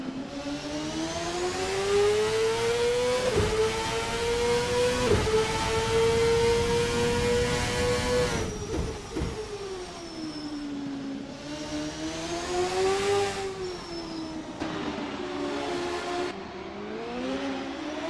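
A CART race car from the 1999 season laps the Long Beach street circuit in a racing video game, its engine a loud, steady high whine that rises and falls with shifts and corners throughout.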